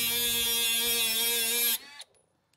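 A Milwaukee M12 FUEL 12-volt brushless cordless 3-inch cut-off saw, rated at 20,000 RPM, runs at a steady high-pitched whine, then cuts off abruptly and spins down to near silence, close and loud with no talk.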